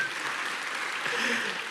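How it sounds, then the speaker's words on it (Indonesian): A church congregation breaks into steady, full applause that fills the room at an even level throughout, with no voice rising above it. "kasih tepuk tangan dulu yang dahsyat"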